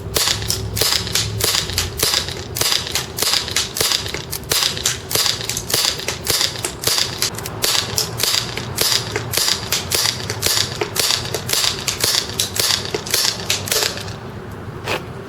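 A TSD M1911 airsoft pistol shoots BBs at a man-sized target 150 feet away, with sharp snappy shots fired in a quick steady rhythm that continues almost without pause.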